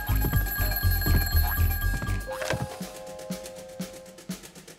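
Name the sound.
telephone bell ringing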